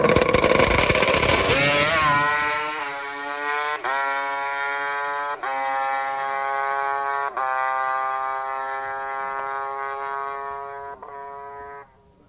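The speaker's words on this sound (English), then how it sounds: "Enjoy the sweet sounds of two-stroke power." Two-stroke Kawasaki H2 750 motorcycle at a racetrack test session screams up through the revs, then holds a sharp buzzing wail with brief dips for gear changes before cutting off, loud and close with no talk.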